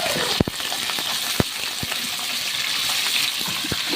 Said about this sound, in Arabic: ادي اللحمه صدمه كده والنار عاليه